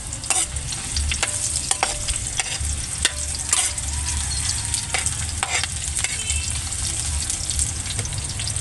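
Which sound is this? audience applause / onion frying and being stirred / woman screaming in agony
onion frying and being stirred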